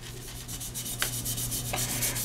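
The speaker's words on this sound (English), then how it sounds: "Scuffing the controller is real easy." Hand scuffing of a plastic game controller shell with abrasive to remove its gloss, a steady close rubbing and sanding texture with a couple of sharper scrapes, no talking.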